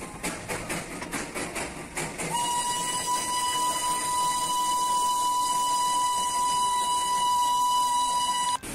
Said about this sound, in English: We witnessed the departure of one of the joyrides using the steam engine